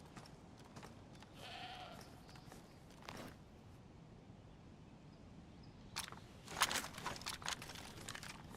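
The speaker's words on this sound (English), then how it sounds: "I hear a sheep." A sheep or goat in the DayZ video game lets out one faint, brief bleat early on, followed later by louder rustling and footstep-like crunches.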